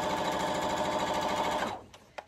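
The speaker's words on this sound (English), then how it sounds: "we're going to take the gray and sew it to the green and do another seam" A close sewing machine whirs rapidly, stitching a seam joining gray and green fabric strips, steady for under two seconds before stopping abruptly, then a couple of faint clicks.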